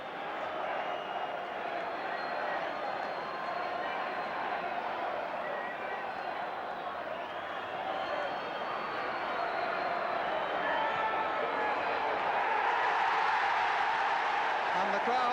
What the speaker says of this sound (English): And the crowd applauding a victory for the kids.